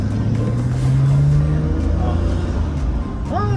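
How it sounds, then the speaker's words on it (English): A Nissan Skyline GT-R with Nismo gauges, heard from inside, makes a steady engine drone with a faint rising turbo whistle and a brief spooling chirp near the end, while people talk over it. "You get a little turbo sound."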